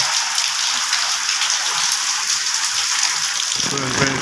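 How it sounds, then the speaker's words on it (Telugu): Heavy night rain pounds roof tiles in Hyderabad, a dense, steady, loud hiss of drops that fills the whole stretch without letup. "వర్షం మాత్రం టూ మచ్ పడుతూ ఉంది."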